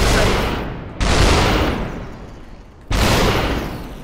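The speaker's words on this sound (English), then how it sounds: "Whoa, he's got a shotgun." Shotgun blasts in the SUPERHOT VR video game: two loud booming shots about two seconds apart, each with a long decaying tail, over a steady game background.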